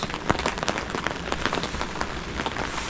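Raindrops patter on a tent while camping in the woods, a close, dense crackle of irregular big and small taps over a soft steady wash of rain, with no voices.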